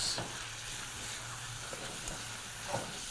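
Tomatoes and mutton cooking over high heat for mutton biryani, with a steady sizzle and hiss throughout and a few faint stirring scrapes, no talking.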